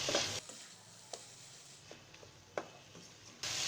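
Onions with salt, chili, cumin, coriander and turmeric stirred in a pan, soft sizzling broken by a few sharp spoon scrapes and clinks at irregular intervals.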